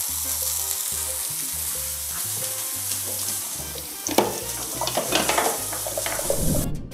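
A burger patty frying in a hot pan gives a continuous close sizzle, with louder crackling bursts and a few spatula scrapes toward the end while music plays underneath.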